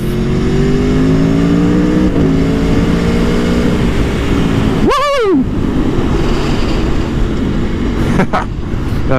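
A loud, constant roar of engine and rushing wind, as heard from inside a noisy helmet while riding a 2018 Aprilia Tuono Factory motorcycle, with the engine pitch climbing gradually.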